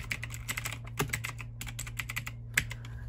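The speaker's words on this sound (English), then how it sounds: "it does have the GX blue switches, so that means they're gonna be a little extra clicky." A Logitech G512 Carbon gaming keyboard with clicky GX Blue switches is typed on, giving a quick irregular run of sharp clicky keystrokes, close and fairly quiet, with a low steady hum underneath.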